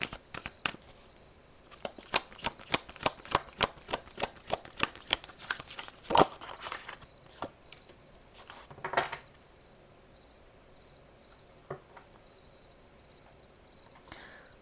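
Tarot cards are shuffled by hand in quick, rhythmic riffling bursts for several seconds. The bursts then give way to a few softer handling sounds and near-silence, with no talking.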